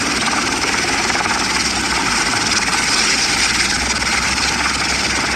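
A toy aircraft takes off with a loud, steady whirring engine drone that holds constant throughout, close by and without pauses.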